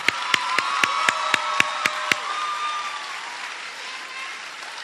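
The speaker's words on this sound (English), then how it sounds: "Let's give them a huge round of applause." A school assembly audience applauds teachers and Shelby County Schools leaders who stand to be recognized. A few loud, evenly spaced nearby claps stand out at first, then the broad crowd applause fades gradually.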